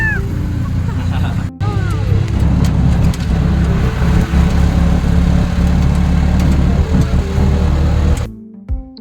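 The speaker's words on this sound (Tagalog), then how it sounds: "nakasakay na kami ng tricycle sa wakas" Riding aboard a motorized tricycle in the Philippines, its engine churning loudly and steadily up close with road rumble, while people talk over the noise before it cuts out at the end.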